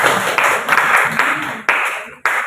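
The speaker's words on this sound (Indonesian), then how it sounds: "tepuk tangan untuk kelompok 1." Applause for a student group presenting in a university biology class, a dense burst of clapping that continues steadily with a few sharper hand claps standing out, close and fairly loud.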